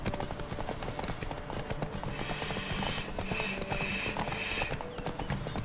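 Roach, the horse in The Witcher 3 video game, gallops in steady rapid hoofbeats against game music and ambience, with a faint neigh partway through.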